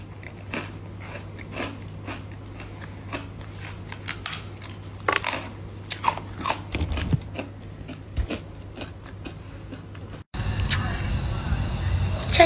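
Close-up eating: crisp, crunchy bites and chewing repeat in quick irregular clicks for several seconds, then a sudden shift to steady, louder ambient noise near the end.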